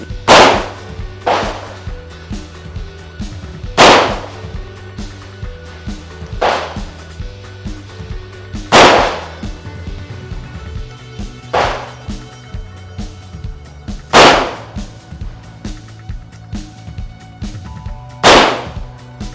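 Gunshots from a CZ Shadow 2 pistol on a range, eight sharp, loud reports spaced a few seconds apart, each with a short ringing tail over a steady low background hum.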